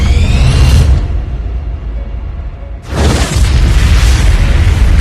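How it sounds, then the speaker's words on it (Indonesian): A huge anime cannon blast strikes a giant kaiju, a loud booming roar that cuts off, leaves a lower rumble, then surges back as another massive explosive burst. "Di saat itulah Kapten Ashiro berhasil menembak kaiju tersebut dengan kekuatan 戦力全開 penuhnya"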